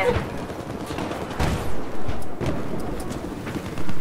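Gunfire crackles in Battlefield 4 during close-quarters multiplayer, scattered bursts and booms over a rumbling battlefield bed, loud and close.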